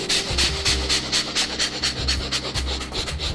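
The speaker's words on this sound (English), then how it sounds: "So, chaotic breathing, meaning you don't really know how your next breath looks like, feels like, sounds like." Rapid, irregular heavy breathing from a chaotic breathing exercise, close and loud, with quick panting breaths in an uneven rhythm and no talk.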